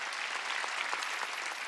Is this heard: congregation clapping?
yes